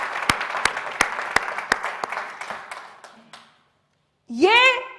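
At a Hindi poetry gathering, an audience greets a poet with a round of clapping, loud distinct rhythmic claps over scattered applause that thins and dies out, followed by a brief silence and a voice starting to speak.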